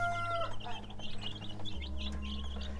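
Rhode Island chickens and chicks clucking in a backyard flock, several short close clucks and chirps over a low steady hum.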